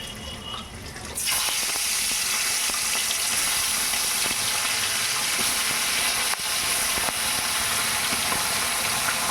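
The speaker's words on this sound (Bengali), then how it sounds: "মাছগুলো ভেজে নিচ্ছি।" Tengra fish coated in turmeric and salt fry in a wok (kadai), a loud, dense, steady sizzle that flares up abruptly after a quiet second and then holds close and continuous.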